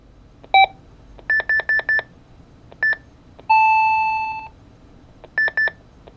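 A Micronta Vox Clock 2 talking alarm clock, repaired after a teardown, gives short bursts of bright electronic beeps in clusters, then a sustained tone, then more beeps, loud and close with no voice.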